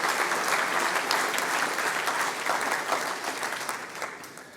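An audience applauds at a mayor's New Year address on local development, sustained even clapping from a seated crowd that tapers slightly toward the end.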